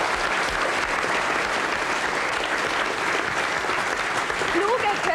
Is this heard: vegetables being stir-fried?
no